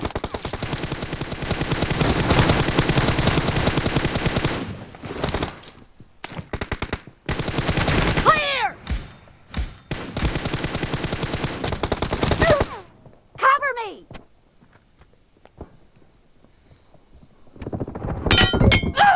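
Pistol shots in a shooter video game, fired in rapid bursts with metallic clinks and clangs between them, loud and up close with no talk over them, then quieter gaps and a final burst at the end.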